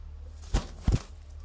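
Sialkoti pigeons flap their wings in two quick, close bursts about a third of a second apart, with quiet background noise between them.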